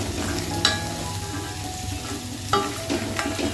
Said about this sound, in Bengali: এদিকে বাদাম ভাজা হচ্ছে